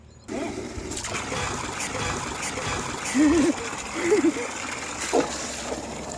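Water trickles and splashes steadily as plants are watered, close by, with brief vocal sounds and a few louder splatters mixed in.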